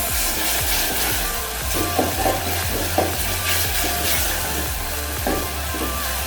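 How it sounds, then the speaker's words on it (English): A spoon stirs coconut milk cooking with carrots in a pot, with repeated scraping strokes over a continuous close bubbling sizzle and no voices. "I'll take our coconut milk. Stir for it to cook before we add our rice."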